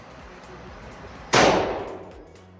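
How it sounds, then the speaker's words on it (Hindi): A single loud, close gunshot from a magnum pistol at a shooting range, a sharp blast that rings off with a lingering tail over steady background noise. "तो ये कुछ शॉट्स हैं मैग्नम के साथ।"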